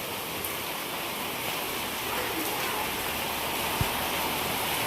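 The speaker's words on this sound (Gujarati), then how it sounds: "ધબધબાટી બોલાવી દીધી વરસાદે તો" Heavy rain pours down outside a home, a dense, steady roar of water that stays loud and even throughout, with no talk over it.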